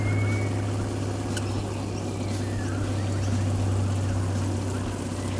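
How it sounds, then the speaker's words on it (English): Water pours steadily from a portable gas-heated camping shower, with a constant close splashing rush over a low pump hum and no talking. "We can try dropping the water flow back."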